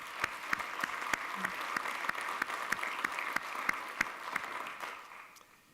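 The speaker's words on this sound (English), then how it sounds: "So a big round of applause for Tracy." Sustained audience applause at an industry conference welcoming address, dense steady clapping from a large crowd with a few sharper individual claps standing out, fading slightly at the end.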